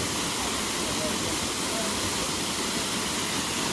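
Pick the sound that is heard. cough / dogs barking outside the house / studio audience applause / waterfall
waterfall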